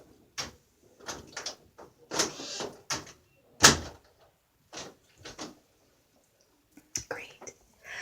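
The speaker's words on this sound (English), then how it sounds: "Let me close the door to give us some privacy." An indoor door closing, a sharp soft thud among quiet rustles and whispered talk, with a few other brief handling knocks and taps spread across the stretch.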